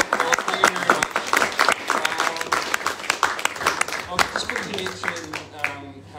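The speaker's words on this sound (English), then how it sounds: "Another round of applause" Audience applause follows a public lecture, with uneven individual claps over a smaller crowd and voices speaking over the clapping as it tapers off.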